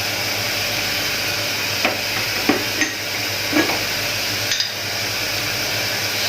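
Garlic paste fries in a pan with a steady, even sizzle, and a few soft spoon scrapes and taps break through now and then.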